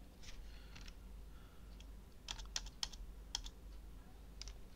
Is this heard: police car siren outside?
no